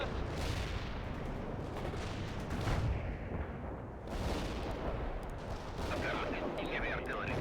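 An artillery strike and gunfire in the World in Conflict strategy game: dense, rumbling barrages of booms and crackling shots, with radio voices chattering faintly over the battle.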